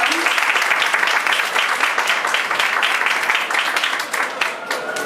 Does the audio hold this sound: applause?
yes